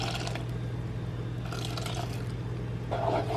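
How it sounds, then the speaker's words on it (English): Hot pasta water is poured from a cup into a bowl of egg and cheese mixture, a steady close splashing trickle over a low kitchen hum, ending in louder sloshing. "I'm going to add 1 cup of the pasta water to that."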